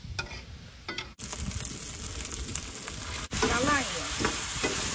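Pork chunks sizzle loudly in oil in a pan at a rainy campsite cooking session, a steady dense crackle with a sharp break midway and a voice speaking briefly over the frying.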